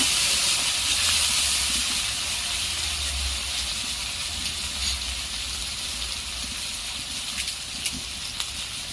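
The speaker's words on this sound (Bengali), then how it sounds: "এবার দিয়ে দিচ্ছি আমি পেঁয়াজ কুচি, টমেটো কুচি, ভালো করে একটু নেড়ে নিচ্ছি।" Chopped onion and tomato frying in a pan while being stirred for a Bengali prawn curry, a steady broad sizzle and hiss that fades slightly over time, with faint scrapes toward the end.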